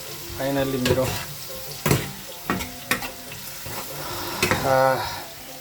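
Turmeric and spices frying in a pan give a steady sizzle, broken by several sharp scrapes and clinks as a spoon stirs them, close and moderately loud.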